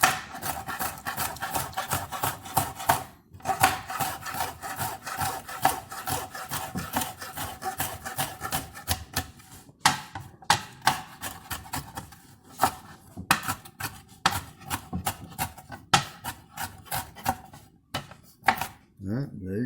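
A knife chops chili peppers and a jalapeno on a board in irregular close cutting and scraping strokes, with a person talking over much of it.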